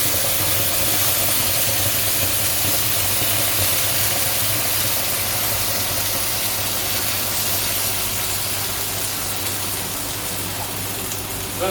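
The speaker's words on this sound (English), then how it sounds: "You'll hear there's an extractor fan on, so you'll hear the noise a little bit" A kitchen extractor fan runs steadily throughout, a constant broadband whoosh and low hum, close and fairly loud, with no breaks while a prawn curry sauce cooks.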